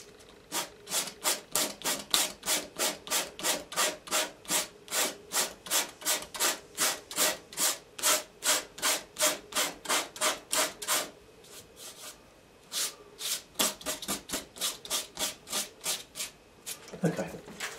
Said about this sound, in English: And to see if I can just dry brush some of that out there.